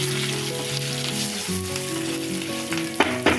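Green chilies, curry leaves and spices fry in hot oil for tamarind pulihora, giving a bright, steady sizzle with a couple of sharp stirring clinks near the end and no speech.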